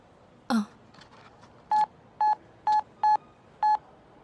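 A short chirp, then five evenly spaced mobile phone keypad dialing beeps, clear and close, with quiet pauses between each tone.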